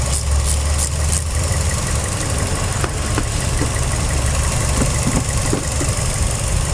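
A car engine idles steadily through a service warm-up in a workshop, a continuous low rumble with a faint knocking texture and a few light clicks, close and alone without speech.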